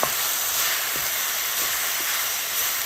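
Onion sautéing in a pan for drumstick-leaf oat puttu, a steady close sizzle and hiss with a few faint utensil taps.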